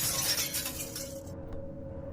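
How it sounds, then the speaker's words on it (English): Glass window panes shatter loudly up close, a burst of breaking glass that quickly cuts to near silence with one last tinkle. "Both panes shattered."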